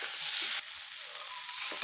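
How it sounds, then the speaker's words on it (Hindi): Samosa filling of spiced masala with crushed green coriander fries in a pan, giving a brief, soft, steady sizzle with faint stirring. "अब इसको फ्राई करूँगी"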